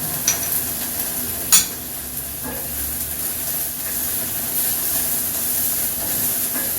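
Halved cherry tomatoes sizzle in a hot pan with a steady, close hiss that runs throughout, broken early by a few sharp pops and crackles. No one speaks.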